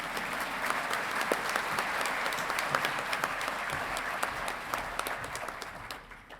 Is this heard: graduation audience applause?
yes